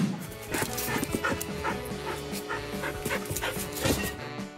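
A small dog whimpers and yips, with a few barks mixed in, close and fairly loud in short repeated bursts.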